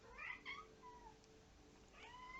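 A domestic cat meows indoors, giving a few faint, drawn-out calls at the start and another near the end over quiet background hiss.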